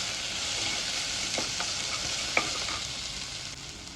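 Chopped tomatoes and onions sautéing in a pan for Kerala-style egg curry, a steady, even sizzle with a few soft stirring scrapes and one sharp click, no voices.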